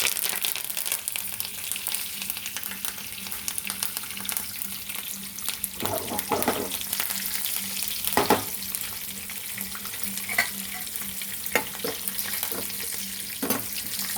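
Slit green chillies and curry leaves fry in hot oil for chicken pakodi, making a continuous hiss broken by scattered sharp pops and crackles, with no voices.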